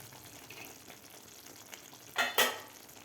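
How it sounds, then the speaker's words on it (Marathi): Okra simmers in a curd masala in a pan, a soft, steady low sizzle, then two brief louder scraping stirs near the end. "दोन ते तीन मिनिट आपल्याला हे भेंडी शिजवून घ्यायची आहे"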